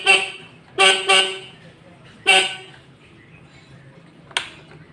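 Horn of a Suzuki RC100 motorcycle with a weak battery sounds in short toots, one alone, then two quick ones close together and another a second later, loud and close against a quiet background.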